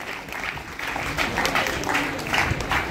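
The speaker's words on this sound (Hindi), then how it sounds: "एक तालियां होती रहनी चाहिए लगातार इनके मेहनत के लिए" Audience applause at a school award and medal ceremony for test results, a sustained crowd clapping that swells slightly and continues steadily with some voices mixed in.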